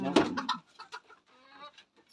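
Mini Cochin chickens cluck close by, a loud burst first and then a run of softer, broken clucks and murmurs.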